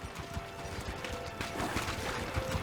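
Clip-clop of horse hooves in The Witcher 4 demo game, a quick steady trot running under faint music and ambience.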